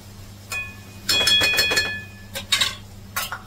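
A metal lid is set on a pot of mung beans cooking on the stove, with a few close, bright clinks and a quick rattling clatter of metal on metal, then a couple of lighter taps.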